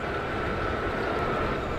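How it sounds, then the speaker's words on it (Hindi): A Mumbai slow local train from Churchgate toward Goregaon, heard on board as a loud, continuous rumbling roar while another local train passes alongside. "और देखो दोनों लोकल ट्रेन एक साथ में आपस में एक दूसरे को क्रॉस कर रहे हैं"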